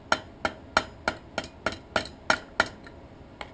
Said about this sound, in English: I'm gonna hammer it.